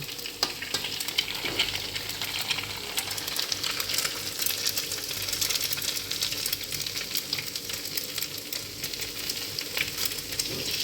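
Eggs frying in a pan with previously fried meat, a steady close sizzle with crackling and occasional stirring scrapes, running continuously without talk.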